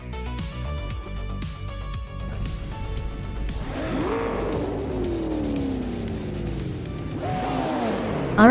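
Race cars, including a 1994 Nissan 300Z DX Turbo M Sedan, at Castle Combe in a racing game, engines revving and sweeping past with falling pitch, loud and close, building in layers as the pack gets going.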